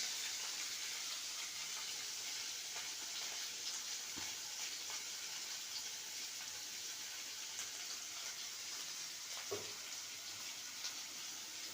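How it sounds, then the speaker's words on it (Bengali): Radish and yardlong beans fry in a pan alongside other vegetables, giving a steady, even sizzle and hiss throughout, with a couple of faint clinks near the middle and end and no talking. "মূলোটা আর বরবটিটা একটু ভাজা হয়ে যাক"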